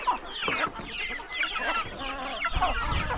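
A rooster on a rural mountain farm clucks up close in quick, uneven bursts, with other fowl faintly in the background.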